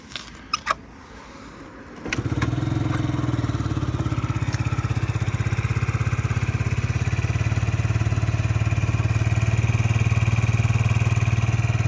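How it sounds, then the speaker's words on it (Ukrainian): A small Yamaha Jog SA39 ZR fuel-injected scooter engine starts after a couple of clicks and settles into a steady, close, loud idle with a low rumbling drone. "Гарно працює двигун."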